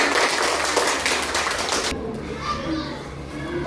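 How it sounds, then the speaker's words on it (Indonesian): Schoolchildren in an Indonesian classroom clap together in a dense, lively burst that stops abruptly midway, leaving the chatter and voices of children talking in the room. "kasih tepuk tangan dulu semuanya"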